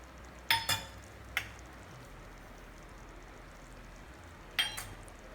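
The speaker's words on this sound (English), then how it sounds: "Now guys, you have to keep on stirring it and let it cook for at least 4 or 5 minutes." A spoon clinks a few times against a pan of matar paneer gravy with green peas: a pair of sharp taps at the start, another shortly after, and one more near the end, with quiet between.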